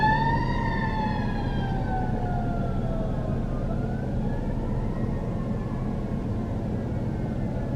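Police car and fire engine sirens wail past on a road, their pitch sliding downward as they go by. The sirens sound moderately distant over a steady rumble of traffic.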